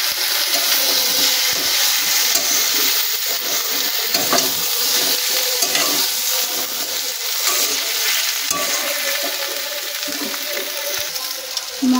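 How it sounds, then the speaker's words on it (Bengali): Vegetables, including Malabar spinach stalks, frying in a pan with chili, cumin and coriander powder, a loud continuous sizzle with steady scraping strokes of stirring throughout. "লঙ্কার গুঁড়ো, কিন্তু একটু ঝাল ঝাল হবে, জিরের গুঁড়ো, ধনের গুঁড়ো দিয়ে এটাকে আর একটু কষিয়ে নেব"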